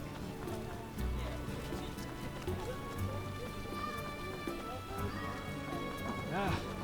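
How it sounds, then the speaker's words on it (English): Rain pours down during a heavy downpour in The Witcher video game, a continuous hiss of falling drops mixed with game music and faint clip-clop sounds throughout. "What a downpour."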